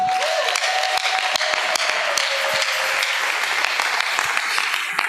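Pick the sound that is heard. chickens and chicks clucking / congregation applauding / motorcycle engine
congregation applauding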